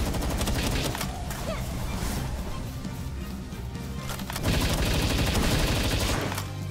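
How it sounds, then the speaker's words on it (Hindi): Rapid automatic gunfire rattles in Palworld as a gun is emptied in sustained bursts, dense and continuous with a brief lull before a louder final volley. "पूरी की पूरी गन खाली कर रहा हूँ मैं इस बार तो"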